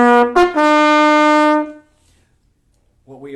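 A trumpet plays a short march rhythm, a few quick separated notes followed by one long sustained tone, close and loud, then silence and a brief note at the end.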